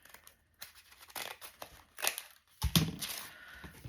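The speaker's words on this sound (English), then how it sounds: "I'll just trim with my scissors." Scissors trim a stray scrap of paper while a simple journal is assembled: a few close, crisp snips and light rustles spaced unevenly over a few seconds, with no talking.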